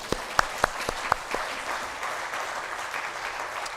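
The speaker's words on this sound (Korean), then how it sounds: "이쁘면 이쁘다고 박수 한번 하십시다" A church congregation claps during a Korean Thanksgiving Sunday service, a few sharp distinct claps at first quickly merging into a brief wash of group applause that stays steady and moderately loud.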